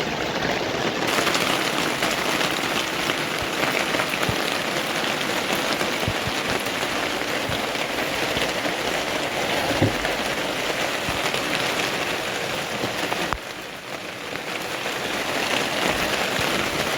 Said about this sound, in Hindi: यहाँ पर भी रसोई में पानी टपक रहा है, पूरी रसोई हमारी गीली हो गई